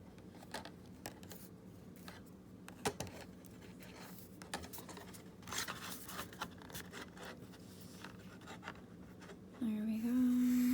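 Pen or marker scratching and tapping across paper while sketching curvy contour lines on a hand illusion drawing, a soft irregular scraping with small knocks, close and fairly quiet, ending with a brief steady hum.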